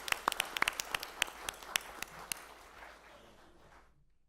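A small crowd at a city council meeting applauds with scattered, distinct hand claps that thin out and fade to silence over a few seconds.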